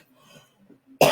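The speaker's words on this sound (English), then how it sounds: "why I all of a sudden start coughing when I get on here" A single sharp, loud cough bursts out at the end after a near-silent stretch with faint murmuring.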